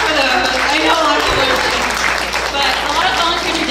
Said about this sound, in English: Yeah, clap for those.